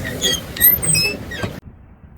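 High squeaky creaks from a pedal swan boat repeat over a low rumbling background, then cut off abruptly, leaving near silence.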